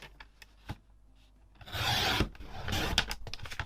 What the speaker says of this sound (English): So let's pop it in our guillotine and do that.